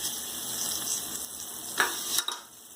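Tempering of mustard seeds, cumin, garlic, dried chilli and curry leaves tipped into hot oil for pachi pulusu, a steady close sizzle with a few sharp crackles and stirring scrapes near the end.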